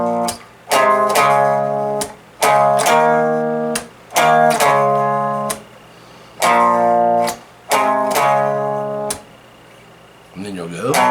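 A guitar slowly plays a section of a song, plucked chords and notes each ringing out with short pauses between, clear and close.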